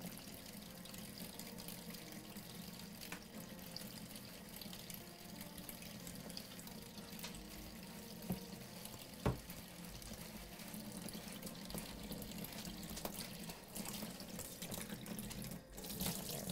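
Steady running tap water pours continuously over raw pork shoulder being rinsed and scrubbed in a kitchen sink, a constant hiss with a few faint knocks and clicks, no voices.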